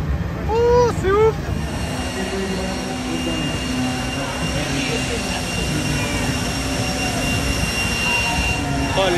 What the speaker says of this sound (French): Oh, les avions, quoi!